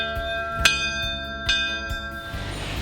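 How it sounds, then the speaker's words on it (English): An old church bell serving as a front doorbell rings out with two or three clear, sustained metallic strikes about a second apart, each leaving a long ringing tone that decays into a low hum. "Okay, so this is our front doorbell."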